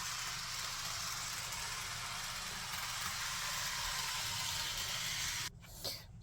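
A single-motor Rivarossi E8 model locomotive runs with a steady, faint mechanical hum and buzz that continues evenly before cutting off near the end with a small clunk.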